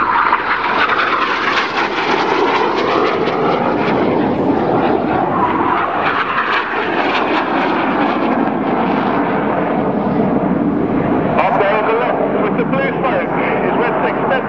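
RAF Red Arrows jets dive low in the carousel manoeuvre at an air show at RAF Leuchars, a loud sustained roar that swells and sweeps past while a commentator talks over it.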